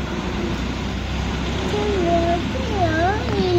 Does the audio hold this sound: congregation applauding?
no